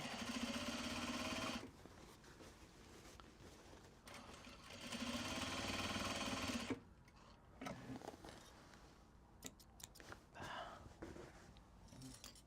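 A sewing machine runs in two sustained bursts, steady and close, then stops, leaving quieter handling clicks and small noises.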